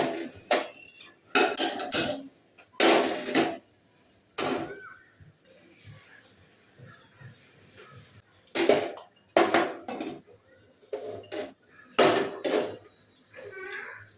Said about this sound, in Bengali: আর এখন বাসন আছে এগুলো ধুবো কড়াইটা তো পুড়ে গিয়েছে